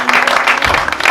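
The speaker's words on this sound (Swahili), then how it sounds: "Piga makofi" A brief, close burst of applause from a church congregation, with the clapping dense and steady for about a second.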